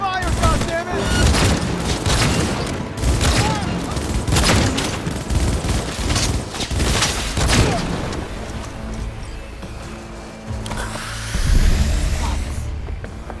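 Heavy gunfire in a Cyberpunk 2077 firefight: dense bursts of automatic fire and booming shots that pile up almost nonstop. Music and voices run underneath, and the shooting swells again near the end.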